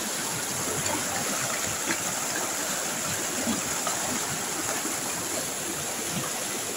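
A river flows in a steady, continuous rush of water, even and unbroken throughout, with no voices over it.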